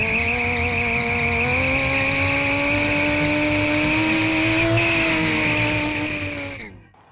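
A stunt motorcycle doing a burnout holds high revs against the rev limiter, a loud, sustained buzzing engine tone that climbs slightly, then cuts off abruptly near the end.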